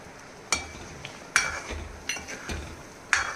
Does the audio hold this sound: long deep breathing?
no